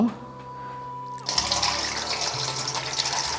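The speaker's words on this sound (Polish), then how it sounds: "Ja sobie chociaż ręce umyję, co?" Running tap water gushes loudly and steadily as hands are washed in a rural Kashubian home during Easter preparations, following a quieter stretch with a faint hum before the tap opens.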